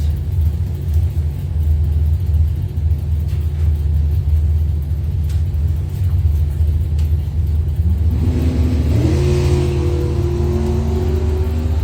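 Ford Ranger race truck from Moody Racing at a 2021 drag race, its engine rumbling steadily at idle, then revving up sharply near the end with rising pitch, loud and close with no talk.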